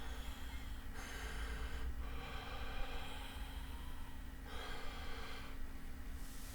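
Deep breaths are drawn in and out through a clear nose, four or five slow, even airy inhales and exhales close to the microphone over a steady low hum, with no talking.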